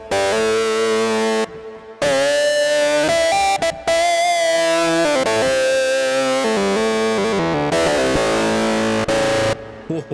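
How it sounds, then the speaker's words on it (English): Guitar tones washed in very long reverb, sustained harmonic notes ringing and overlapping into a dense, distorted-sounding wash that drops out briefly between phrases, loud and continuous with no speech. "There are two of them, very long reverb."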